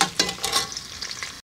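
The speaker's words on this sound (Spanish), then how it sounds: "vamos a poner la cebolla y le vamos a dar una friteada" Onion fries in a pan, a close bright sizzle with crackling spits and stirring, then cuts off into silence.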